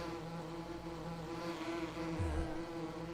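Insect buzzing from bees on a farm in Farming Simulator 17, a steady, moderately loud drone with a short low rumble near the end, no talk.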